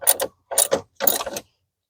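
A ratchet snugs up engine mount bolts on a 2013 Dodge Dart, heard as three short bursts of rapid clicking close by, separated by brief silences, with no talk.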